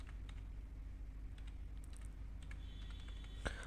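Keys tapped on a computer keyboard while entering a purchase transaction in Tally ERP 9 accounting software, a few faint scattered clicks over a steady low hum, with one sharper keystroke near the end.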